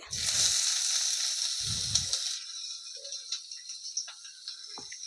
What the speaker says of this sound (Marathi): जिरे टाकू मोहरी टाकू आता कांदा टाकते